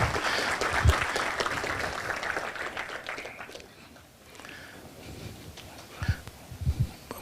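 A conference audience claps to welcome a speaker onto the stage. The applause is dense and moderately loud at first, then fades away midway, leaving only a few scattered thumps and room noise.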